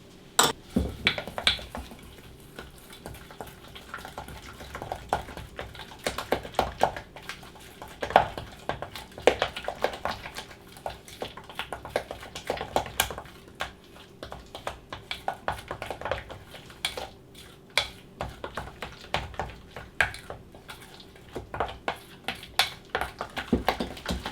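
Turmeric, cumin and lemon juice stirred together in a bowl, heard as a steady run of light clinks and scrapes of a utensil against the dish, close and fairly quiet, with no talking.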